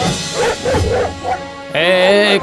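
Cartoon dogs bark and yip in quick animated bursts, then a long high-pitched whining yelp rings out loud and close near the end.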